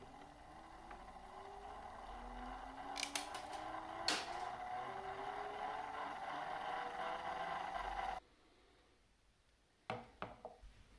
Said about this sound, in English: the motor starts spinning and the LED comes on